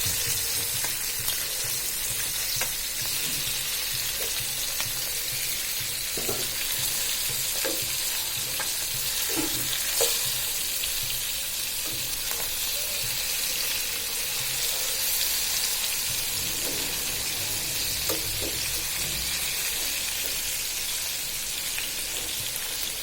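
Tilapia fillets frying in a pan of oil, a steady crackling sizzle with occasional sharper pops and spatters running throughout, close and continuous with no voices.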